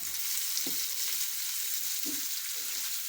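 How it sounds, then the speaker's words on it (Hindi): Ginger and onion fry in a pan for potato spring rolls, a dense steady sizzle with a couple of low stirring thumps, close and continuous, no speech. "और इन सब चीज़ों को अच्छे तरीके से फ्राई कर लेते हैं कुछ देर के लिए।"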